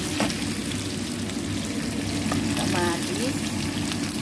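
Garlic and onion sauté in a pan for a Filipino munggo dish, making a dense, constant sizzle up close with a few faint clinks, and no talk over it.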